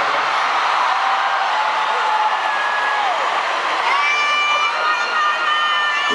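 A large outdoor concert crowd at a show in Toronto cheers and shouts steadily, a dense roar of many voices with scattered whistles, loud and continuous throughout.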